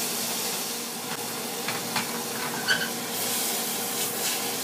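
Seasoned lobster medallions sauté in butter in a pan with a continuous, even sizzle and hiss and a few faint scrapes as the pieces are tossed, without speech.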